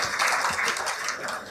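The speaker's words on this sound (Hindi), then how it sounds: "जोरदार तालियों से स्वागत करें आदरणीय डीबी यादव जी" Audience applause welcoming D P Yadav to the stage at a community gathering in Mumbai, a dense steady wash of many hands clapping at moderate loudness for the whole stretch.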